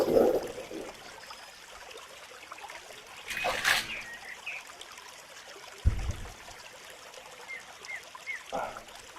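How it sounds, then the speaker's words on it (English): Water trickles softly while a koi pond is pumped out and refilled during spring cleaning, a faint continuous dribble with a couple of brief splashes. "So yeah, I am pumping water out as I'm adding water."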